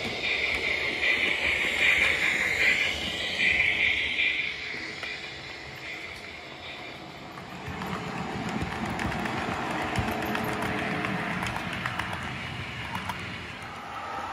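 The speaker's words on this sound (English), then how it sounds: "So I'll just run a few more trains" Small OO gauge model trains rumble and clatter along track with a steady mechanical whir, a high whining motor tone early on, continuous and fairly close.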